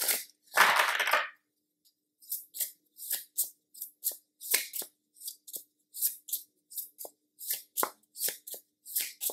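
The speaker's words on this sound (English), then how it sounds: "I feel guided to shuffle this deck" A deck of tarot cards is shuffled by hand, opening with one long riffling burst and then a run of short, crisp flicks in an irregular rhythm, close and quiet with no talk.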